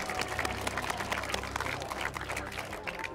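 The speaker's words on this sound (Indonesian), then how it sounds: "Sekali lagi tepuk tangan untuk Pak Eko." A crowd claps in a dense, steady patter of applause, with voices mixed in underneath.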